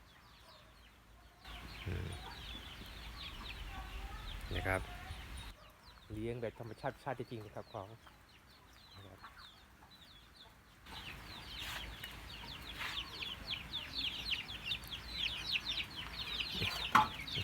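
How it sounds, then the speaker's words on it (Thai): Ducks and chickens in a naturally kept backyard farm pen, including Muscovy and laying ducks: scattered clucks and fowl calls come in bursts, near and moderately loud, while someone talks over them. "อันนี้ก็คอกนะครับ อบแบบธรรมชาตินะ มีทั้งเป็ดไก่ เป็ดเทศ เป็ดไข่นะครับ"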